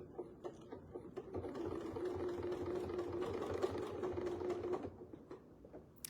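A sewing machine stitches forward along a quilt block design, a fast, steady mechanical whirring and ticking heard up close at moderate level, starting and stopping with brief pauses at either end.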